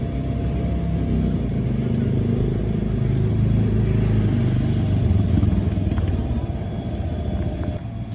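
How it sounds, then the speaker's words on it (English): Steady generator engine drone at an outdoor Octoberfest market, a loud continuous low rumble holding throughout with faint clatter on top. "Not too sure if y'all can hear me because the generator right in front."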